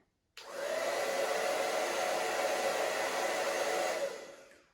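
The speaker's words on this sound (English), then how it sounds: "So now I'm gonna show you this Lange hair dryer" After a brief silence, a L'ange Bijou hair dryer on highest heat and lowest setting switches on and blows with a loud, steady whooshing roar for about four seconds before winding down.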